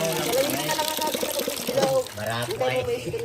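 Water splashes and sloshes continuously as something is rinsed in clean water, close by at a river, while a person talks over the sound.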